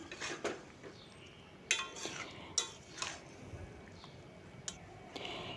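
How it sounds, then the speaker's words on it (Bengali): Fried jackfruit being stirred into a spice mix in a pan, faint low sizzle with intermittent scrapes and clinks of a metal spatula against the pan, quiet and close. "ভেজে রাখা কাঁঠালগুলো দিয়ে আমি আবার ভালো করে মিশিয়ে নিচ্ছি"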